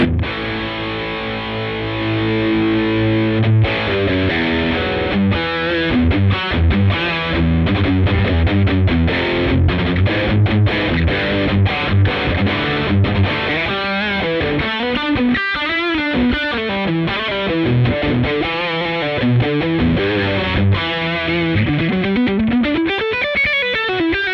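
Heavily distorted electric guitar through a high-gain Mesa Boogie Mark Series amp plays chugging riffs and sustained chords, loud and continuous with no talking.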